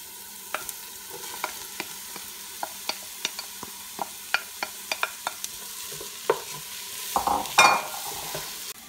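Carrots and lentils fry in a pot as a spoon stirs them, giving a steady sizzle punctuated by sharp repeated scrapes and clacks against the pot, with a louder burst of clattering near the end.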